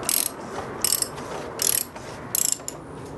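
A ratchet with a 36mm socket snugs down the oil filter housing on a BMW E36, giving four short bursts of crisp clicking in a steady back-and-forth rhythm, close and clear.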